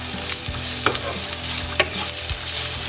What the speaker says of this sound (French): Donc on va faire frire les oignons de manière aussi simple comme cela.